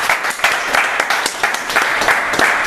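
A church congregation claps and applauds at a healing service, a dense, steady wash of many hands with sharper individual claps standing out, loud and close throughout.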